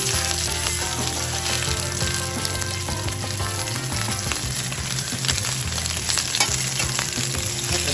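Sausage sizzles and crackles in a hot pan, a steady dense frying hiss with small pops and stirring scrapes throughout, close and continuous.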